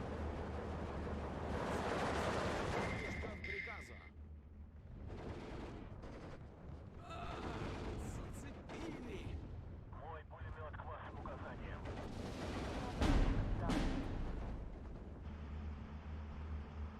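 Mortar fire in the WWII strategy game Steel Division 2 thuds and booms at a distance amid a steady rumble of battle, with several dull impacts spread across the stretch and a sharper blast near the end.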